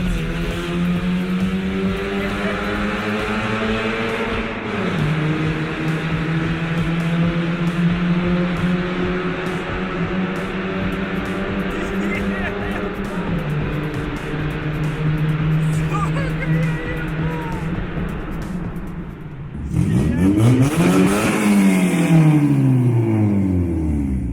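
A car engine idles roughly and revs up and down repeatedly, loud and close, sounding as if it is falling apart, swelling into a harder rev near the end.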